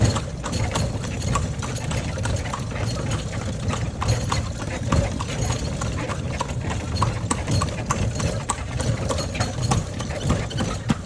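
Horse hooves clip-clop steadily while pulling a kalesa carriage through Ilocos Sur, the hoofbeats close and continuous over a low rumble of nearby engines, with no talk.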